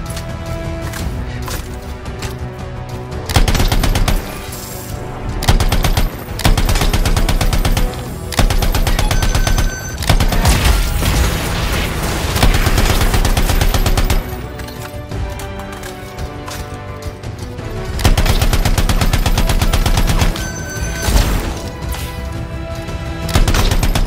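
Turret gunfire in the Anthem video game: loud, rapid machine-gun bursts in several long volleys with short pauses between them, close and dense, with no speech over them.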